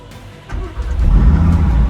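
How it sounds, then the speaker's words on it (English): Quiet at first, then a supercar's engine builds into a loud, rising roar as it accelerates hard on a test drive, growing steadily louder toward the end. "Now it's time to jump in and take my actual car for a test drive."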